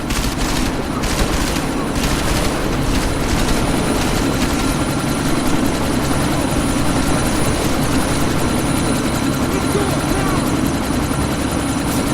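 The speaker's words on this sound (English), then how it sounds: "you need to disable that chopper" A helicopter in the video game Deus Ex drones loud and continuous throughout, its rotor roar dense and unbroken, mixed with bursts of gunfire.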